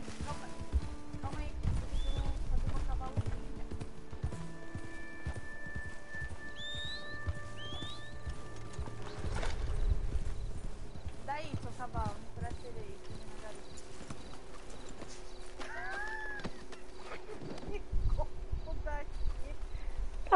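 Horse hooves clip-clopping steadily in Red Dead Redemption, a continuous walking rhythm near and clear throughout, with game ambience, bird calls and a whinny, while people talk over it.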